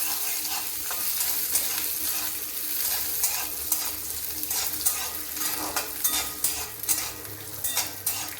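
Peanuts frying in mustard oil in a wok on a gas stove, a soft continuous sizzle with repeated scraping stirs and metal clinks that grow sharper toward the end, nearby and fairly quiet.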